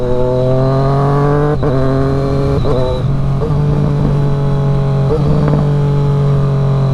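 A Triumph Street Triple RS motorcycle pulls steadily under load, its engine drone briefly dipping at three quick-shifter gear changes before resuming, loud and close.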